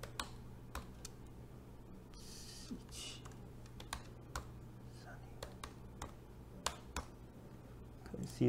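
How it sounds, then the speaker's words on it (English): Quiet, irregular key clicks from an IP address being typed on a computer keyboard, faint against a low steady hum, with occasional slightly louder taps. "type the IP address."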